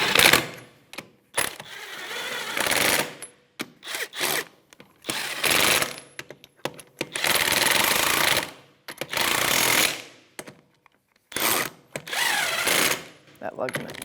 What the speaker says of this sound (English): Now with a 21 millimeter, we'll snug the lug nuts up